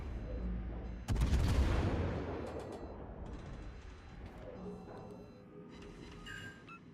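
Torpedo strike in a naval fleet battle game: a sudden heavy explosive blast hits after a second and rolls into a long rumbling decay, with scattered mechanical clatter and faint later impacts trailing behind.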